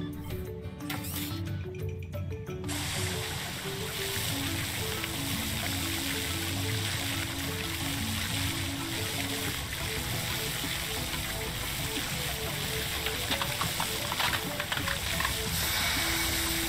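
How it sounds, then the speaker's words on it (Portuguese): A cartoon water cannon from PAW Patrol sprays water onto hot rock, a steady rushing hiss that runs for most of the stretch alongside tonal background music. "Use o canhão de água de Marshall para esfriar a rocha e atravessar."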